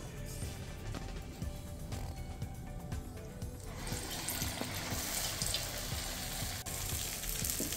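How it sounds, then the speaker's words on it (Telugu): Vada batter frying in hot oil seasoned with a pinch of salt, for dahi vada: a steady low crackle that swells into a louder, bright, continuous sizzle partway through, with no voices. "ఇప్పుడు గారెలు వేస్తున్నాను చూడండి"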